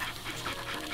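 Small cartoon dogs in the video game Nightmare Ned pant quickly and softly in a brief, quiet burst of rhythmic breathing.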